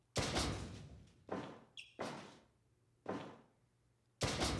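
Heavy body slams onto a wrestling mat during a match, five loud separate thuds spaced about a second apart, each with a short booming decay, with a brief higher clank between the second and third.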